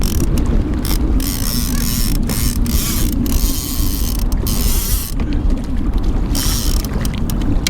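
A fishing reel on a kayak pays out line in a steady, fast mechanical clicking as a planer board is sent off to the side for salmon and trout trolling, running continuously at close range over water and wind noise.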